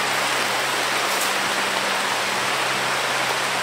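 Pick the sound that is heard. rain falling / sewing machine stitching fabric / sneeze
rain falling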